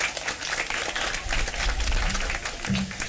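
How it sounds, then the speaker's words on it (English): Audience clapping for parents at a Year 6 school production, a steady wash of many hands applauding that stays fairly loud and even throughout. "Children, let's clap for the parents."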